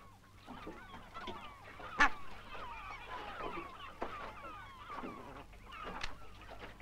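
Barnacle geese (Branta leucopsis) honking in a flock, overlapping yelping calls at moderate distance with a few sharper, louder honks standing out over a low steady hum.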